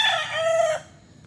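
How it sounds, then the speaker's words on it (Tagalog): A rooster at a chicken farm in Bauang, La Union, lets out one loud, close crow lasting under a second, with no talk, then falls quiet with only faint background noise from the surrounding flock. "Oh, puro manok lahat."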